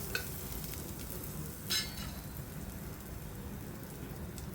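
Cumin seeds with onion and garlic frying in a pan for mutton paya soup, giving a steady soft sizzle with faint stirring scrapes and one brief louder clink partway through, with no talking.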